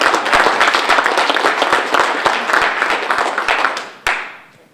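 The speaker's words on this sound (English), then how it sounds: "So give yourself a round of applause." Audience at a JoomlaDay Florida conference opening keynote applauds, a full burst of clapping that thins out, ending with one last sharp clap and a quick fade.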